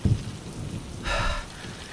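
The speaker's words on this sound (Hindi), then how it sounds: "बरसात की तेज बूंदें, कड़कती बिजली और कच्चे रास्ते।" Heavy rain pours down on a dark rural dirt road, with a short burst of thunder rising over the steady downpour.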